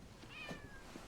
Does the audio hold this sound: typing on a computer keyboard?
no